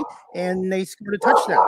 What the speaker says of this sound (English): I apologize for my dog barking.